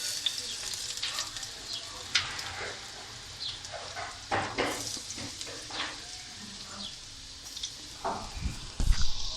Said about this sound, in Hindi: इसी घी में आपने लहसुन डालना है।